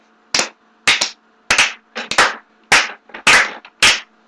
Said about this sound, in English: Let's give her a slow applause.